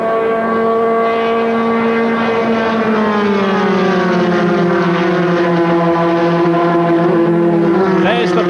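Formula 3 racing cars at Thruxton in 1984 approach the bump at Church Corner at around 140 mph, a loud, sustained engine howl whose pitch slowly falls as a car passes, with another car rising in at the end.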